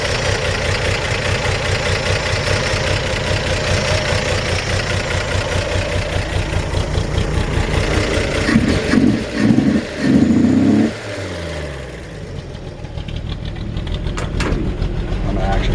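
A 1954 Chevy 3100 pickup with a 216 six-cylinder engine and a new carburetor idles with a steady, loud, close putter, revs up briefly a few times, then settles and cuts out as a voice speaks over it.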